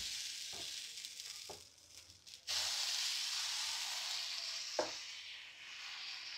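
Thick spinach uttapam batter sizzles and fries on a hot iron dosa pan, a steady bright hiss that jumps louder as batter hits the surface, with a few soft scrape or tap sounds, no talking.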